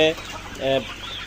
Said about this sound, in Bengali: এই ব্যাচে প্রায় 3000 প্লাস মুরগি রয়েছে।